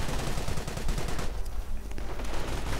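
Sustained MG42 machine gun fire in a World War II strategy game battle, loud dense bursts of rapid shots overlapping with other gunfire throughout, no voices.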